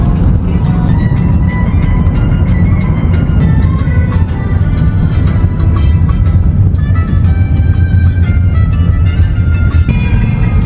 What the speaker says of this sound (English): Saturday morning traffic continues actually.